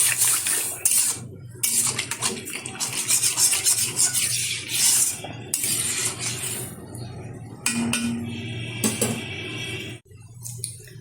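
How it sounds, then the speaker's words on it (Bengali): Water poured into a pan of oats masala, heard as a loud, close, continuous rushing splash with a few clinks of cookware, stopping briefly near the end, no speech. "দিয়ে দিচ্ছি পরিমাণ মতো জল"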